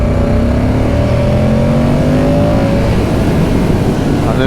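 A Moto Guzzi V100 Mandello motorcycle accelerating in Strada mode, its engine note climbing steadily with rising harmonic tones, loud and continuous throughout with no talk.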